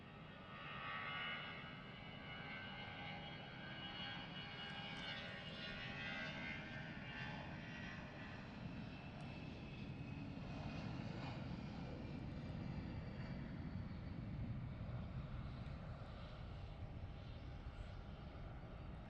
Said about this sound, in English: Up and away with the Lufthansa.